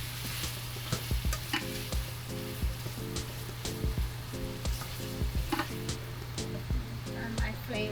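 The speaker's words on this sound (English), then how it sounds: "So you're doing your stirring motion, so you're sauteing." Ingredients for coconut shrimp pasta sautéing in a pan, a quiet steady sizzle under a low hum with regular scraping knocks from a stirring utensil.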